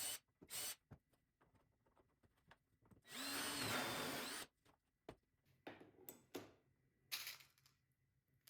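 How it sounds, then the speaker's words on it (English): A power drill bores small screw holes in the top of garage cabinet parts, with one sustained loud whir of about a second and several short bursts around it, close and alone. "drill the little screw holes on top"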